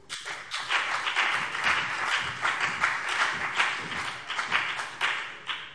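Applause fills a parliament plenary session hall in Hesse during a school-law debate, a steady dense patter of many hands clapping for several seconds with no talk over it.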